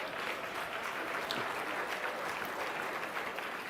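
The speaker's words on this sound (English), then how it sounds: "Come on, clap." Audience clapping on request at a leadership talk, a dense, steady wash of applause from a crowd, fairly faint and distant, with no voice over it.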